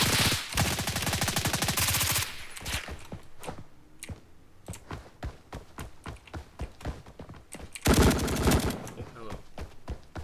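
Rapid bursts of M249 light machine gun fire in the video game Blackhawk Rescue Mission 5, loud sustained strings of shots at the start and again later, with scattered single gunshots between, alone without talk.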